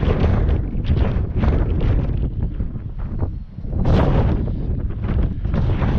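Loud gusts of wind buffet the microphone in heavy, rumbling bursts, easing briefly in the middle before surging again.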